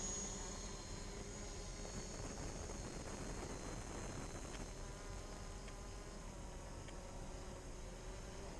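Small camera drone lifting off beside storage sheds at a building site for a zero-altitude, low-level flight, a steady high-pitched propeller whine holding at moderate level throughout with no voices.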